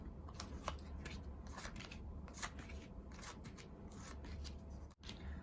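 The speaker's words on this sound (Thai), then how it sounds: "ขออนุญาตวางไพ่แบบ" Tarot cards are laid out one after another on a surface, a close run of soft papery slaps and slides in an uneven rhythm, with no speech.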